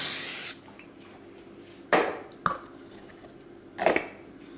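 A short hiss of spray onto a baking pan at the start, followed by a few separate knocks and clatters of kitchenware in a quiet room.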